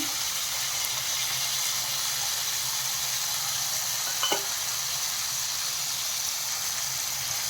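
Raw beetroot, carrot, cauliflower, peas and potatoes fry in a pan for pav bhaji, producing a continuous, moderately loud sizzle with a brief clink partway through and no voices.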